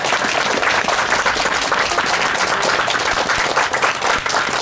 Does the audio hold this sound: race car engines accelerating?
no